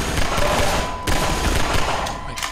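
Rapid, dense automatic gunfire in the video game Half-Life 2, a continuous loud burst of shots that briefly breaks off near the middle and then carries on.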